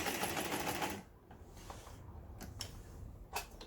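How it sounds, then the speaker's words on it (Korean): A Janome 333 household sewing machine runs with its pedal pressed, giving a loud, close mechanical whir at the start, then it slows into intermittent clicks and short bursts of stitching. "이때 페달을 밟아서 박음질을 하죠"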